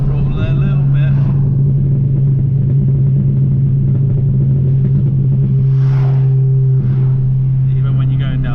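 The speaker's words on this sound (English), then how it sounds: "if I put it in second gear and you just lift up the revs and then you go to about 4 grand and hold that throttle there" A Ford Fiesta ST180, tuned to 330 bhp, holds about 4,000 rpm in second gear, giving a loud, steady low engine drone throughout, with brief talk near the start and again later.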